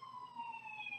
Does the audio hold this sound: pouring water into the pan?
no